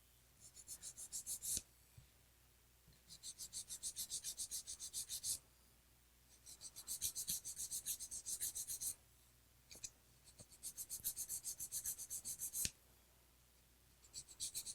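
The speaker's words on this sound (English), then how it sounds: "filing straight out from the nail groove on the right." Close, quiet rasping of a nail file shaping a long almond acrylic nail, in four rhythmic bursts of quick back-and-forth strokes separated by short pauses.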